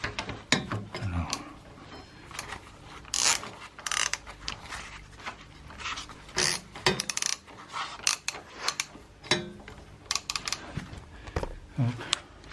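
Ratchet with a 14 mm socket working on a 1993 Honda Transalp 600 motorcycle, a close series of irregular clicking bursts and metallic clinks interrupted by short pauses, with someone talking in between.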